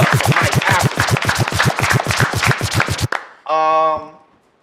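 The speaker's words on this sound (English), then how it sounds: "Clap it up for Mike Africa." Rhythmic clapping for a guest at a live podcast taping in a historic theater, about fourteen sharp, evenly spaced claps in unison that stop abruptly, followed by a brief sustained tonal sound.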